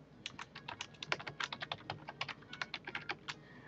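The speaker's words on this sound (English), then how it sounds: "You type in your name," Quick, light keystrokes on a computer keyboard while entering a name on a game's high score screen, a rapid uneven run of close clicks with no talk.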